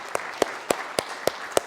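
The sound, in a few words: audience applause at motivational talk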